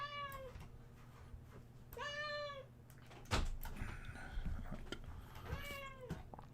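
A cat meows three times, each call a clear, fairly close drawn-out cry spaced a couple of seconds apart, with a knock or thump and faint room noise between them.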